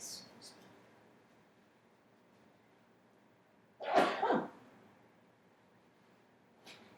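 A man sneezes once during a quiet indoor interview: a single sharp, close burst in the middle, with near silence around it and faint noises at the edges.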